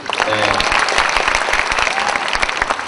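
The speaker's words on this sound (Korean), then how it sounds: "박수 좀 부탁드리겠습니다" A live audience breaks into dense, loud applause, a crowd of overlapping claps sustained for the whole moment with a few voices mixed in.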